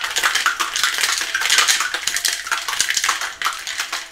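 Lasagne ingredients being mixed in a dish, a busy, close run of utensil scrapes and clinks against the dish with quick irregular rhythm, alone without talk.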